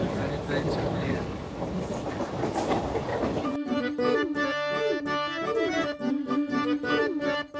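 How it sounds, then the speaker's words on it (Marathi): The Modi Express from Mumbai toward Kankavli pulls away, starting as a broad rumble and turning into a steady, close, rhythmic clickety-clack of wheels over rail joints with a strong tonal whine. "ट्रेन सुटली आहे"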